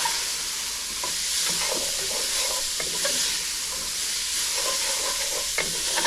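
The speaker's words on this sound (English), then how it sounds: "I'm just going to cook this a little bit until the garlic and onions are very lightly softened" Garlic and onion frying in oil over lowered heat for Texas chile con carne, a close, steady sizzle with occasional stirring scrapes throughout.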